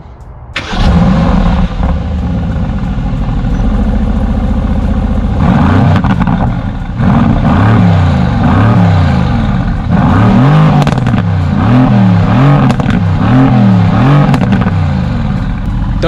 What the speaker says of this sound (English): the next reason why you should buy the GTS is because of that twin turbo V8 sound